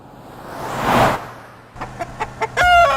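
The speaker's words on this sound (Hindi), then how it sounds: "अरे मुर्गे बॉस, तू अकेला इन सब के बीच इतनी सारी मुर्गियों को कैसे संभालता है?" A rooster among a flock of hens gives a few sharp, close clucks, and a short, loud crowing call follows at the end after a brief rush of noise.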